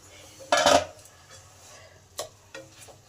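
Radish pods frying in a pan: a loud metallic clatter of a spatula against the pan, then a few quieter scrapes over faint low sizzling.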